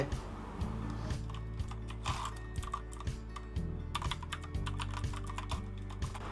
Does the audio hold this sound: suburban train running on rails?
no